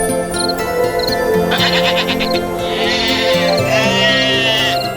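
Sheep bleating loudly and close, several wavering bleats overlapping across a few seconds, over a steady tonal background.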